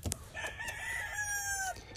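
A crossbred rooster on a farm crows once, a long drawn-out call close by, with a brief cluck at the start.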